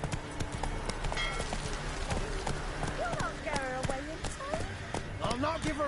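Horse hooves clip-clop at a run in The Witcher 3 video game, a steady drumming of hoofbeats under continuous speech and ambient game sound, loud and close throughout.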